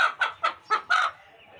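White hen clucking close by, five quick loud clucks in an even rhythm followed by a brief quiet, no talk over it.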